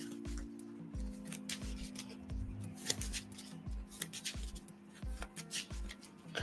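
Cards from a Marvel Champions card game are shuffled by hand, giving close, repeated riffling and sliding bursts in an uneven rhythm, with no talking.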